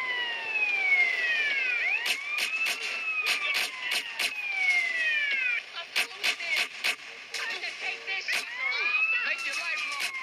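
Police sirens in the video game Grand Theft Auto: San Andreas wail continuously, with overlapping rising and falling tones and rapid yelping bursts, loud and close, mixed with engine and game noise.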